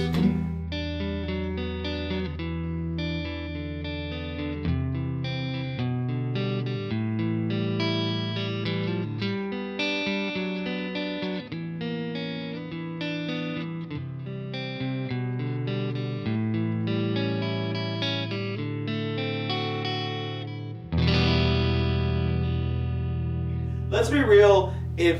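Sustained electric guitar chords ring out with a wide, washy reverb tail, changing every few seconds and swelling brighter near the end.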